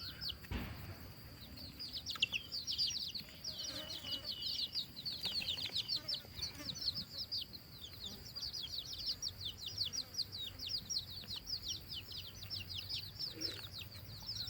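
Mixed-breed red junglefowl chirping and clucking in a dense, steady run of rapid calls, with faint wing flaps and soft background noise throughout.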